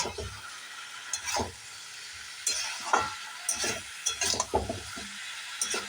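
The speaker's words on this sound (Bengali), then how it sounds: "এঁচড়গুলো আমি ভালো করে কষিয়ে নেব।" Boiled young jackfruit being stir-fried in a hot pan: bursts of sizzling with repeated spatula scrapes and knocks against the metal, close and fairly loud.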